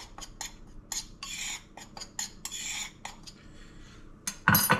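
Utensil scraping and clinking against a bowl while flour coating mix is stirred for pan-fried fish, a run of short, close taps and swishes in uneven bursts with a louder knock at the end.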